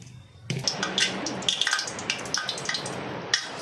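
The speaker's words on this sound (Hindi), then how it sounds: "इसी से हम 2 बर्तन ये पानी डालेंगे" Water is poured from a measuring vessel into a cooking pot for rice, starting abruptly as a steady splashing pour with scattered bright clinks and drips that continue to the end, close by, with no talking.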